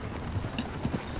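Horse hooves clop in an irregular galloping rhythm in the video game Red Dead Redemption 2, set against a steady wash of outdoor ambience, fairly close and moderately loud, with no talking.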